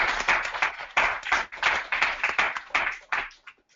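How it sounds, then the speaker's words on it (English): A small group claps together over a remote call, the bursts of hand claps thin and uneven, swelling and fading in rough waves before trailing off at the end. "if we clap loud enough, hopefully you can hear us"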